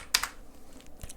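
A few quick keystrokes on a computer keyboard, two close clicks followed by a later single tap, fairly faint with no voices.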